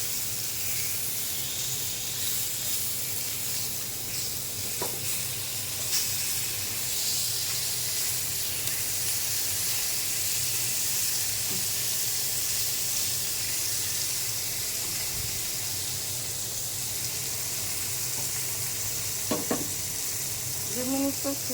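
Rohu fish pieces rubbed with turmeric, chili and salt frying in oil in a pan, a steady close sizzle throughout with a few faint clinks.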